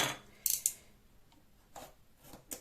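Scissors trimming excess material from the edge of a handmade album structure, two quick close snips followed by a few softer cuts and rustles in an otherwise quiet room.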